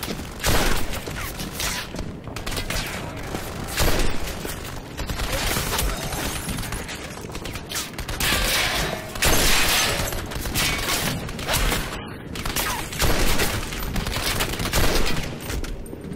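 Sustained video game gunfire in Turning Point: Fall of Liberty, dense bursts of rifle and machine-gun shots with booming impacts and shattering debris, loud and continuous throughout, with no talk.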